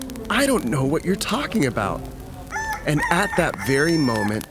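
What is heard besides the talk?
rooster crowing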